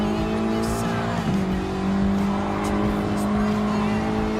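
A Ford GT LM race car in Gran Turismo Sport, engine holding a steady loud drone with a brief tire-squeal blip partway through as it races at Circuit de Saint-Cloix.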